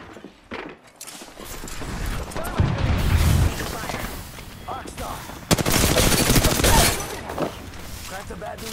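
Video game gunfire, rapid automatic bursts and single shots crackling in loud clusters with heavier booms, dense and close, with a voice talking over the shooting.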